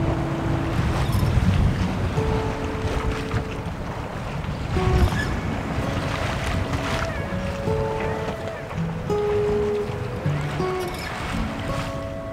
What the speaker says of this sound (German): Boot läuft gut, 5 Knoten Fahrt.